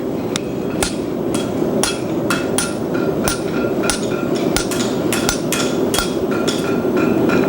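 A hammer strikes a fuller on an egg bar horseshoe in a steady series of sharp, ringing metallic blows, about two per second, close and loud over a constant background hum.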